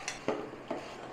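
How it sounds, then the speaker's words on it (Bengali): A spoon stirs fried cauliflower in a pan for crispy cauliflower 65, giving four distinct metallic scrapes and taps against the pan over a low, faint sizzle, with no talking. "এটা দিয়ে দেবো, ভালো করে মিশিয়ে নেবো"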